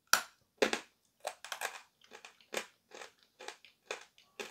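Ural blue chalk being bitten and chewed up close, a sharp crunching bite followed by a rapid series of dry crumbly crunches in irregular bursts, no talking.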